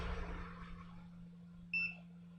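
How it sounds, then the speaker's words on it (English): A short, faint electronic beep from a multimeter-style tester on a Dell Inspiron 1545 laptop board with a shorted capacitor, a single tone near the end over a low steady hum. "Beep."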